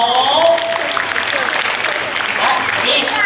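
Children in an audience at a storytelling concert clap their hands together in a steady, lively burst, with voices and bright chatter mixed through the clapping.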